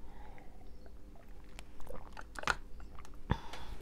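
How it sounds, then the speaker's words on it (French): Quiet, close mouth sounds of someone taking a sip of a drink, small wet clicks and a soft gulp against a faint room hum, with no talking. "Je vais prendre une gorgée."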